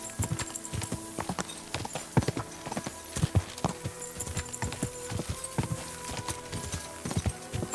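A horse's hooves clip-clop steadily at speed across open ground in Kingdom Come: Deliverance II, the beats close and prominent and repeating evenly without pause.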